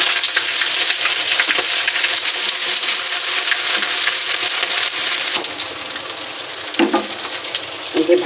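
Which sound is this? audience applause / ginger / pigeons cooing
ginger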